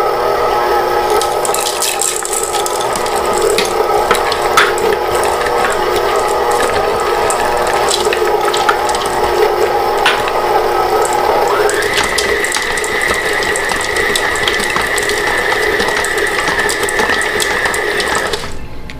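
A stand mixer on low churns cookie dough with toffee pecans, peanut butter chips and milk chocolate chips, a loud steady mechanical whir with a clicking, grinding rhythm that shifts in pitch partway through.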